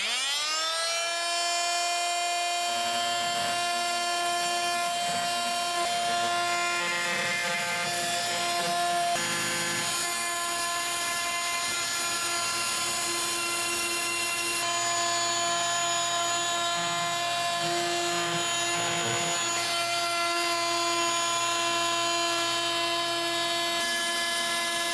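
An oscillating tool grinds out grout around wall tile set over KERDI membrane, a loud, steady high-pitched whine running unbroken throughout, close by, with grinding grit shifting as the blade bites.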